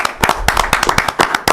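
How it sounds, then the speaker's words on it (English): A small audience at a village board meeting claps, a short burst of quick, loud, uneven hand claps close by, with no talk. "Gentlemen, let's applaud these young men first"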